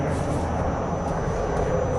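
Dassault Rafale fighter's Snecma M88 jet engines roar at the Dubai Air Show, a loud, steady broadband rumble and hiss holding level throughout with no talk.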